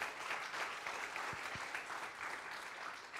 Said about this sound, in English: how about another round of applause for that wonderful combo?